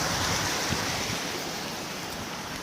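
Liquid gushes out of a pipe beneath a tractor sprayer in a loud, steady, broadband rush that holds constant throughout, close by and with no speech.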